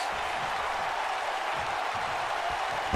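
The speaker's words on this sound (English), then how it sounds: "Listen to this crowd." Arena crowd in the WWE 2K19 wrestling video game, a steady, dense roar of cheering and applause that holds loud and even throughout, with no talk over it.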